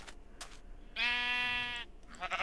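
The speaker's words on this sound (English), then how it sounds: "Oh, it's a sheep." A sheep in Minecraft gives a single clear, wavering bleat lasting about a second, close and loud, with brief quieter game noises just before and after it.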